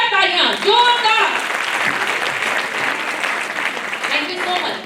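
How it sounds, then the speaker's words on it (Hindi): An audience at a recognition event breaks into loud applause for the women seated there, a broad wash of clapping that swells and holds, with a voice speaking over its start and end. "उन सभी बहनों के लिए जोरदार तालियां, जोरदार"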